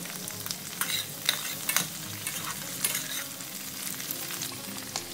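Capsicum strips stir-fried in a hot pan for paneer fried rice, with steady sizzling and frying broken by repeated scraping strokes of a spatula, close and fairly loud with no talking.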